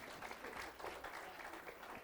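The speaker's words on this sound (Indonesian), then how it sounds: "Tepuk tangan dulu buat imam musik kita yang keren." A church congregation applauds its music leader during a Sunday worship service, a steady wash of clapping that stays even and moderately distant for the whole stretch with no voices on top.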